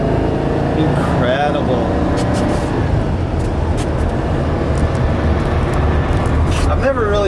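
A 1959 Porsche Convertible D cruising at about 60, its steady engine drone and road rumble filling the cabin while someone talks over it.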